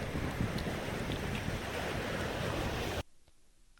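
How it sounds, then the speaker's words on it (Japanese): Strong surf of the Sea of Japan off Sado Island, Niigata, crashes on a windy day, with loud, continuous rushing waves and wind buffeting the microphone before the sound abruptly drops to quiet. "この日は風も波も強くて、海はなかなかの迫力です。"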